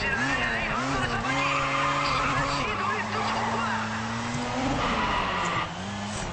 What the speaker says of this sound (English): This is the worst place for me to drift on.